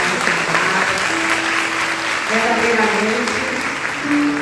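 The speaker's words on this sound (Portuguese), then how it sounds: "Quero que vocês aplaudam ao Senhor pela vida" A church congregation applauds loudly and steadily, with a sustained organ or keyboard tone running underneath the clapping.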